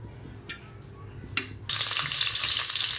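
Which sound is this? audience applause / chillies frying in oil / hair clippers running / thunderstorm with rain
chillies frying in oil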